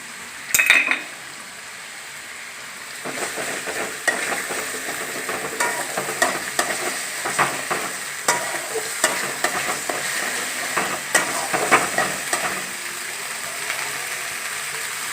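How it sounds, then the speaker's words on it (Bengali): Ginger and garlic paste sizzles in a pan for Bengali-style egg curry, with a utensil stirring and scraping, its sharp clicks and knocks repeating over a steady frying hiss, close and loud, with no voices. "আদা রসুন ভাজা ভাজা করে নিতে হবে"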